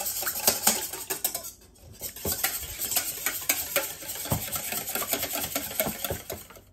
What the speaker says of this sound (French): Je vais maintenant casser 2 œufs dans un saladier que je vais battre.